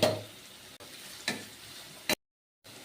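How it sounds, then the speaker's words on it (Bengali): Chopped green chilli and carrot hit a hot pan with oil for flattened rice pulao, giving a soft sizzle and a few scraping stirs in short bursts, fairly close, before a brief moment of silence. "এবার একে একে সব সবজি আমি দিয়ে দেবো আগে দিয়ে দিলাম এই যে কাঁচা লঙ্কা কুচি গাজর দিয়ে দিলাম"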